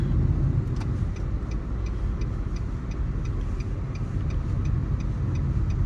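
A car drives slowly and parks, its engine a steady low rumble close by with a faint regular ticking, like an indicator, running throughout.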